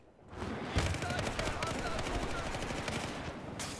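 Rapid automatic gunfire in the multiplayer shooter Battlefield 4, a continuous rattling burst at moderate distance that starts after a quiet moment and runs for several seconds, with a voice briefly present.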